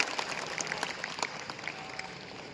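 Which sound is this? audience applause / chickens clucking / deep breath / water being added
audience applause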